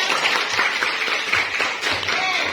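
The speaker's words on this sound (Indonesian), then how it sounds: "Kita kasih aplaus untuk semuanya." Audience applause at a school class event, a dense burst of clapping from a crowd that holds steady for a couple of seconds.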